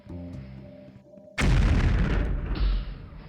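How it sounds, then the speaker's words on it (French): A grenade blows up in the video game Anti-Terror Force GIGN: a sudden loud, broad boom lands after a quieter stretch of game sound and rumbles on for over a second before fading. "Alors on va faire l'entraînement à la grenade."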